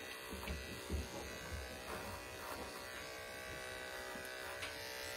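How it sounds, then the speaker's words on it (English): Electric clippers trimming a dairy goat's hair around the tail head, a steady close-up buzz that runs unbroken for several seconds with slight changes as the blades move through the coat. "Trimming along the edges, getting all that hair around the tail head."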